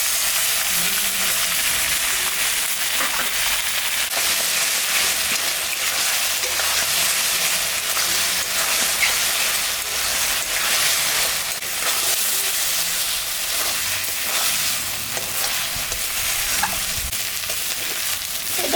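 Spices and potatoes fry in a pan with ginger, cumin, dried chilli and garlic paste, giving a steady, close, broadband sizzle that runs unbroken with faint stirring scrapes and no talk.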